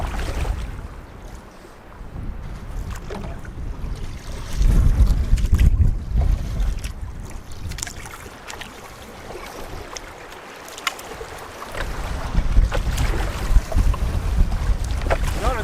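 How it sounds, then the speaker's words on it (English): Strong wind gusts roar over Lake Superior around a solo canoe, with buffeting surges and choppy water sloshing against the hull, loud and uneven throughout. "The wind is pretty intense today."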